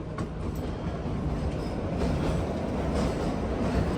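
The Shimla toy train rolls along its narrow-gauge rails with a steady, loud rumble and rattling wheel noise, a faint squeal rising now and then, and no voices.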